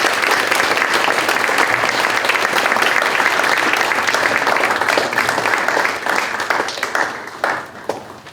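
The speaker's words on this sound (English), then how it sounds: "Would you please give them a round of applause?" Sustained audience applause at a school committee meeting and awards ceremony honoring retiring staff, dense and steady clapping that carries on for several seconds before gradually thinning out toward the end.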